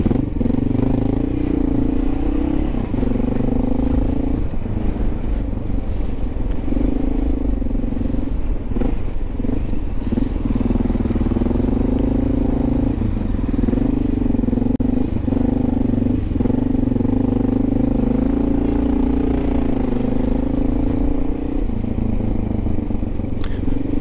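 A Honda XR650L dual sport motorcycle rides along city streets, its single engine droning steadily and loudly throughout with wind rush and slight shifts in revs, and no talking.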